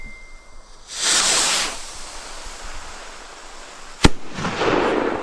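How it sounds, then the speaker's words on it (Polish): BOMBA JR71 firework rockets launching outdoors: two whooshing hisses of rising rockets a few seconds apart, with a sharp crack between them over constant background hiss. "Rakiety bomba, też nowość od Jorga."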